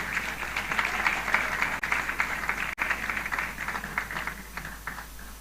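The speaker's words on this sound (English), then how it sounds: "Clap for me." An audience at a conference claps, a steady, moderately loud patter of many hands that continues throughout with slight swells and two brief dropouts.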